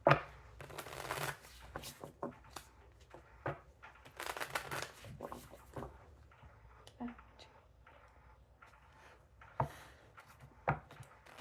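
Cards riffled and shuffled in repeated bursts of crisp flutters and taps, close up, with quiet pauses between shuffles.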